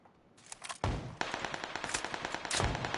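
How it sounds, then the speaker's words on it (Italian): Gunfire in PUBG on PS5: sharp, loud shot bursts come in quick succession over about three seconds, with a rapid rattling volley toward the end and no talking. "Sento spari."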